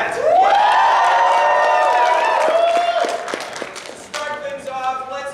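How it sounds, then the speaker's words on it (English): Convention audience at a furry fandom charity panel cheering and whooping loudly, a sustained crowd roar with shouts and scattered claps that swells early, then thins into overlapping voices and a lingering whistle-like tone. "Let's get a bigger cheer for that."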